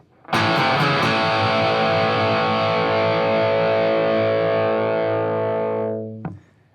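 A heavily distorted electric guitar plays a riff, ringing out a sustained power chord after a few quick picked hits, holding loud and steady before being cut off.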